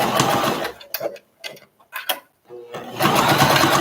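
A sewing machine top stitches through two layers of fabric for a boxy bag, a fast buzzing whir that runs loud, stops and starts in short bursts, then resumes steadily, with someone talking between runs.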